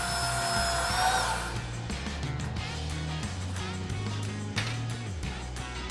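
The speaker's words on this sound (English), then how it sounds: "I'm gonna go ahead and drill right into that chassis again." A power drill bores into an aluminum light fixture chassis during a garage lighting build, its motor whining steadily and loudly for a second or so before settling into a lower grinding hum as the bit works through the metal.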